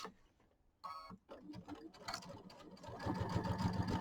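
A sewing machine stitches quilt seams, starting with slow, hesitant bursts of needle hum and then settling into a louder, steady mechanical whir near the end.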